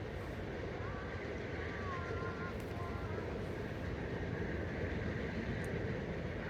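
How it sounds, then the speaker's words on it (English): A steady, droning rumble of a departing Amtrak train's P-42 Genesis diesel locomotive fills the scene, continuous and fairly even, with faint higher squeals drifting in and out, at Buffalo Exchange Street Station. "listening to the distinct chugging sound of its P-42 Genesis engine at the point"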